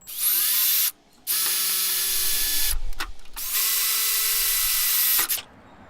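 A power drill whines at high speed in two long bursts with a short pause between, boring holes for a backup camera mount on a 2010 Jeep Wrangler, close and loud, ending in a brief quieter tail.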